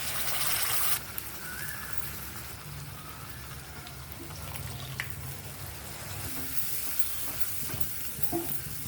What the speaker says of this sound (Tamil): இந்த மசாலாவை ஒரு 2 நிமிஷம் மீடியம் ஃப்ளேமில் வதக்கணுங்க.